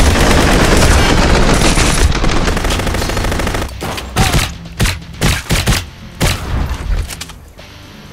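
Automatic gunfire in the game Blue Estate roars in a sustained loud burst, then breaks into a series of separate heavy shots and thuds spaced about half a second apart.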